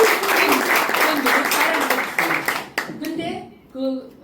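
An audience at a lecture claps loudly and continuously for a few seconds. The applause then breaks off and a voice resumes talking.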